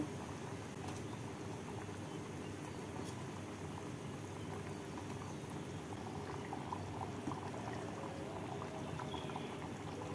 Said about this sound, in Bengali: এবার ভালো করে ফুটিয়ে নেব। ঝোলটা ফুটে গেছে